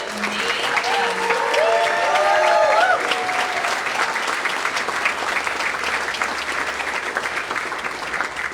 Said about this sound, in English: I just want to get a big round of applause, please, for these amazing